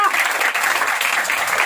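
A church congregation claps loudly and continuously, a dense, close wash of many hands with faint shouting voices mixed into the applause.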